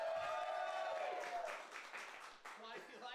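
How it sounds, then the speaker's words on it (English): An audience at an improv comedy show claps to vote, a brief burst of applause with some cheering that fades quickly, with voices heard over it. "Applaud if you like."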